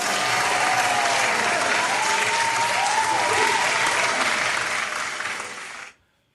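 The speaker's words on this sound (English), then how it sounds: "I'm gonna give y'all a round of applause" Loud, sustained applause from a large crowd, a thick continuous roar of clapping that holds steady for several seconds before fading quickly and dropping to silence.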